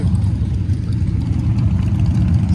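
Engines of American cars and motorbikes at an outdoor car show rumble loudly and steadily at close range, a dense low idle with no talk over it.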